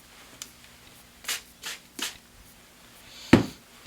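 Cheap scissors snip through material in a few short, separate crisp cuts, close and fairly quiet, with one sharper final snip.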